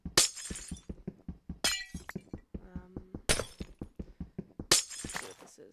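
Glass blocks shatter in Minecraft with the Aether mod, four sharp crashes about a second or more apart over a steady run of footsteps or block taps, loud and close with no talk.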